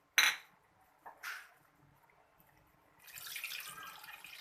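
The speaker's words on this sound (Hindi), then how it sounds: "और अब हम डालेंगे इसके अंदर पानी।" Water poured into a karahi while cooking kofta curry, a short splash and clatter of utensils followed by a softer sizzling rush of liquid hitting the hot pan.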